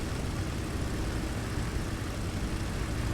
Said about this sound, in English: They do an awful lot of sound, this little airplane.